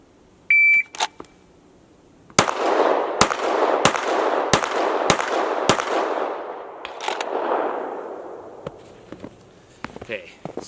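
At an outdoor shooting range a shot timer beeps once, then six loud, evenly spaced gunshots follow with echoing tails, and fainter clicks and movement come after.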